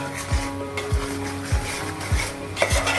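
Marinated fish is worked together with chilli powder, turmeric and salt by hand, giving wet, squelching stirs that repeat in a regular beat about every half second, close and fairly loud.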